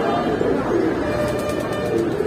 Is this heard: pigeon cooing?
yes